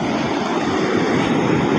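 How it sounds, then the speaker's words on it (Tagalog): Rough sea with waves surging in a steady, loud wash of surf, mixed with wind rumble against the microphone, continuous throughout the short stretch with no talking. "Maalon po yung karagatan ngayon."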